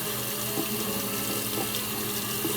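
A knife rinsed under a running kitchen tap, with steady water streaming and splashing into the sink throughout, loud and close with no pauses.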